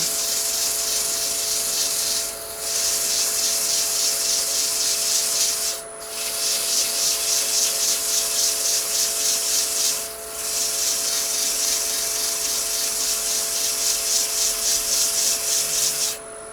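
Close, steady back-and-forth rasping of 120 grit sandpaper on cured epoxy resin runs almost continuously, broken by three brief pauses between strokes, loud and alone without talk.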